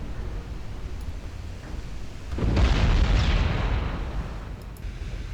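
A single big explosion in the naval warfare game Ultimate Admiral: Dreadnoughts, rising into a broad roaring blast that swells and slowly fades over a steady low battle rumble.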